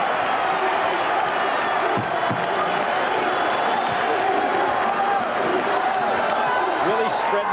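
Basketball arena crowd at a Big East championship game between Providence and Georgetown, a steady broad roar of cheering and noise filling the whole stretch, with commentary talk running over it.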